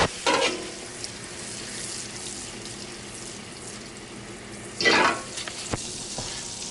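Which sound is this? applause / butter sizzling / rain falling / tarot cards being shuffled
butter sizzling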